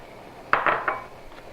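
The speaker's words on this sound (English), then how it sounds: "So we're going to add 600 grams of prawn." Six hundred grams of prawns going into warming tamarind sauce in a wok: a few quick clinks and clatters of dish against pan, close and fairly loud, then quiet.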